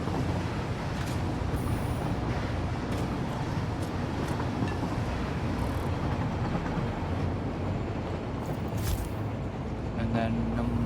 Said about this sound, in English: one of the other trains is actually following behind